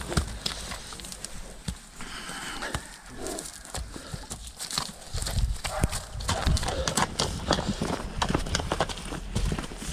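Foals clip-clop over hard ground amid a dense, noisy outdoor background, hoofbeats tapping irregularly and steadily throughout.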